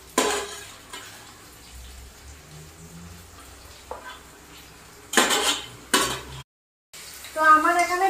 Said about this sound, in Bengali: আমার এখানে পেঁয়াজটা ভাজা হয়ে গেছে, আর এখানে কাঁচা লঙ্কাটাও ভাজা হয়ে গেছে